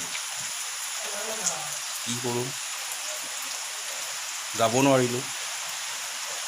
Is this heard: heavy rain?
yes